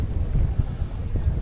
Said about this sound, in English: Oh, it's so windy now.